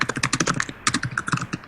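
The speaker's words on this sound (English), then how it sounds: "Furious typing." Rapid bursts of keystrokes rattle on a computer keyboard, close and crisp, with a brief pause partway through before the fast clatter resumes.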